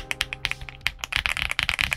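Rapid typing on a stock Aula Wind F87 mechanical keyboard, a dense run of crisp, thocky-to-creamy keystrokes close up, some quick bursts overlapping in an uneven rhythm with no voices.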